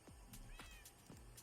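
A cat meows in a few quick, soft chirping calls in rapid succession, close by but quiet, with no talk over them.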